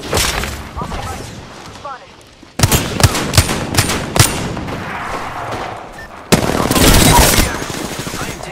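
Rapid gunfire bursts ring out in the video game Apex Legends, loud and dense, with sharp repeated shots clustering into fusillades separated by brief lulls.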